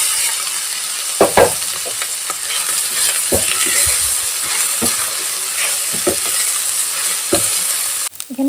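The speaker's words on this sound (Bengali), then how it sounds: "সবজিগুলো এখানে ভাজা হয়ে গেছে" Vegetables and leftover rice stir-frying in a pan give a loud, constant sizzle, broken by repeated scraping knocks and clinks of a utensil against the pan at an irregular pace, with no voices.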